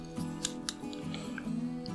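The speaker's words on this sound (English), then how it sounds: "so I'm gonna go ahead and snip them" Scissors snip herl during fly tying, giving a few quick, soft close-up cuts that are faint and unaccompanied by talk.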